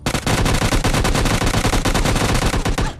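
Rapid automatic gunfire from a shooting video game, with the player using a shotgun in a one-versus-four fight, rattles continuously and loudly for the whole stretch in fast, dense bursts.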